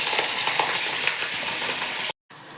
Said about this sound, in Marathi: तर आता आपण मिरची फ्राय करून घेऊया.